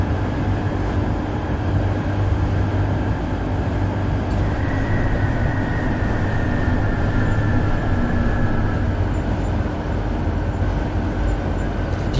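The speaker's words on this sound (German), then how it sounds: "Die Bahn klingt aber auch echt geil" A tram on the Kbergbahn route in the OMSI 2 simulator, with a steady loud rolling rumble of wheels and motor, constant hum and faint whining tones, driving along without pause.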